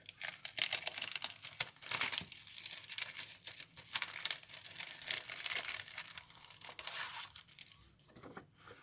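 Thin rice paper crinkles and rustles up close, with continuous crackling handling and small tearing-like bursts, no voices.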